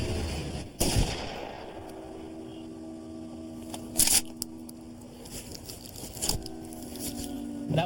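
A trooper's gunshots ring out at a moose beside a road in Alaska, two or three sharp cracks spaced a few seconds apart over quiet outdoor ambience, each one loud and abrupt.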